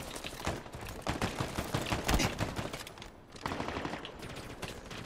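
Rapid, dense gunfire from a shotgun-type weapon in Halo Infinite multiplayer combat, with loud repeated blasts across the whole stretch and a brief lull near the middle.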